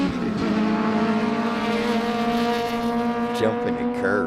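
A Ford Mustang race car at Sebring: a loud, steady engine drone with a strong harmonic whine holds constant throughout, like a race car passing at high revs, without speech.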